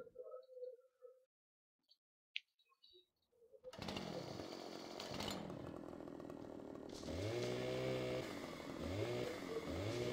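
A chainsaw in the Farming Simulator 15 video game starts up after a few faint clicks, then runs loud and continuous with a buzzing drone that revs higher partway through.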